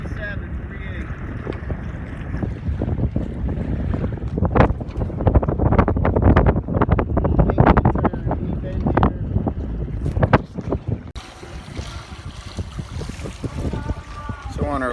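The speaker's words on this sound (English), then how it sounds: "So the breeze is definitely picked up." Steady wind blows across the microphone on a Skipper 20 sailboat named Panache, sailing in the Florida Keys as the breeze picks up, with gusty rumbling buffets and a continuous rush that eases near the end.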